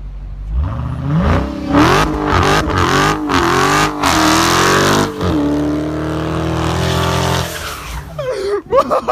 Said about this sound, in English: Just do a straight burnout right here. Just spin them real quick.